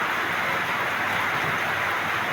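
Rain falls steadily under dark, overcast weather, a dense, continuous hiss with no voices over it.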